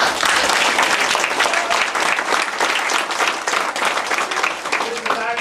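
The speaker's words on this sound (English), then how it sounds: "give us, in fact, a big round of applause" Family and students at a martial arts belt ceremony break into a big round of loud, close applause, dense continuous clapping throughout with scattered voices mixed in.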